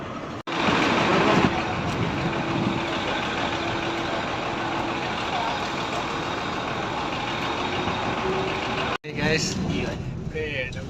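A double-decker bus in Kuwait rumbles with a steady low engine drone and road noise heard from on board, broken by a brief cutout near the end, while someone talks over it.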